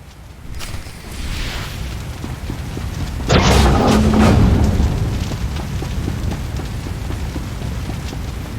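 Mortar fire in Star Wars: The Old Republic comes as a sudden loud boom partway through, followed by a rumbling roar that slowly fades. Quieter ambient battle noise runs before and after it.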